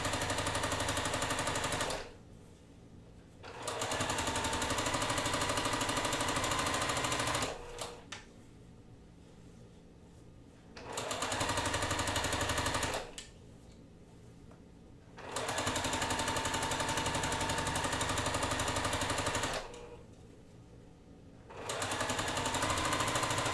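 A home sewing machine stitches fabric in four loud, steady runs of about three to five seconds each, separated by short quiet pauses, close by with no talk.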